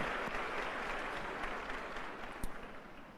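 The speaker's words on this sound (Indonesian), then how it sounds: "berikan tepuk tangan untuk beliau" An audience at an Islamic lecture claps together in sustained applause, a steady wash of hand claps that stays fairly even for a few seconds.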